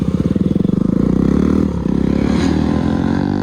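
A nearby motorcycle engine revs with a rapid, pulsing putter that rises and falls in pitch during wheelie and stoppie riding, steady and loud throughout.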